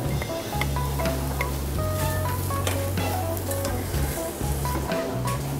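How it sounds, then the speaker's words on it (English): Shallots and olive oil, with fennel added, sweat gently in a pan without browning, giving a steady, moderately loud sizzle throughout, with a low continuous hum underneath and a few faint clinks. "We sweat the shallots without coloring"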